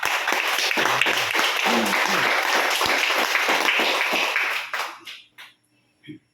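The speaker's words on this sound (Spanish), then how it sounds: "Dele palmas al Señor" Church congregation applauding the Lord during a Spanish-language service, dense sustained clapping that fills the room for about four and a half seconds before thinning out into a few scattered claps.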